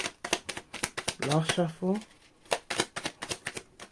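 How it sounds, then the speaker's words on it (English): Tarot cards riffle and snap in a quick run of crisp, close shuffling clicks, while a person talks briefly in the middle. "All right, last shuffle."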